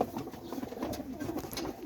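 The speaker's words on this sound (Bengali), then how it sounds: "এই যে হাতে একটা কবুতর দেখছেন, সিলেটি কামাগার মায়া, আর এটা জনসিরা টেডি" Pakistani Teddy pigeons cooing close by: soft, repeated low coos in a quick run, fairly faint, with no talking.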